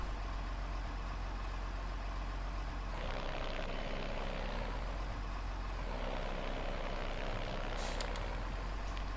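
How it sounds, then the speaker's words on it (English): A rough, unhealthy diesel truck engine in a farming video game, running with a blown head gasket, drones steadily at low volume with a hissing burst partway through and no talk. "Because that engine doesn't sound healthy."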